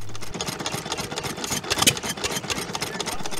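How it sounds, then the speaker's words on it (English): A steam engine at a steam fair runs with a steady, rapid ticking beat and a soft, repeated exhaust chuff, close by and continuous, with one louder burst midway. "Ticks like a Rolex with a lovely exhaust chuff"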